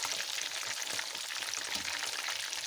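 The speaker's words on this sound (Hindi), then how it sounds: "ये देखिए अब हम इसको ऑयल में डाल देंगे।" Chicken chargha, Lahori style, frying in hot oil, giving a steady, dense, close hiss of sizzling bubbles throughout with no talk.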